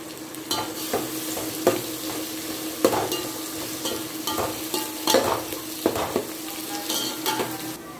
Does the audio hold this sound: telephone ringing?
no